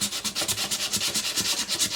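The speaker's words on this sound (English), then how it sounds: "I'm taking that away with the sandpaper" Very fine 1000–1500 grit sandpaper rubs back and forth on the wooden body of a 1970 Japanese Ariana AW-60 guitar, a close, rhythmic series of quick, even rasping strokes with no talk.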